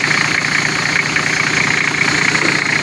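A repaired Nissan Patrol engine idles steadily and loudly up close, with a continuous rough rumble and a faint knocking rhythm running through it, and no talking.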